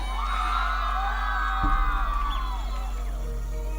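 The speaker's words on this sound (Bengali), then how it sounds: "একটা জোরে হাততালি আমার ফুল টিম" Audience at a live Baul song stage show cheering and whooping for the band, a steady crowd roar with shouts rising over low stage hum, swelling in the second half.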